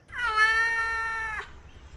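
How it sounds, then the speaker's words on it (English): A single drawn-out cat meow, clear and fairly close, rising then holding steady before cutting off, with quiet background. "this cat?"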